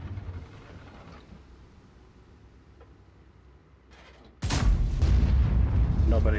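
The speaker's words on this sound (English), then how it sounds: "I'm gonna blind fire into the bush here." In a video game, a weapon is blind-fired into a bush, ending quiet background ambience with a sudden loud, sustained burst of close gunfire.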